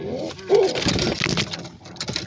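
Pigeons cooing close by, several soft throaty coos and warbling calls overlapping across the stretch, with some rustling and faint background noise.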